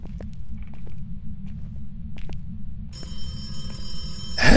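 A telephone rings in the ghost-hunting horror game Phasmophobia, a bright electronic ring starting partway through over a constant low rumble, with faint footsteps before it.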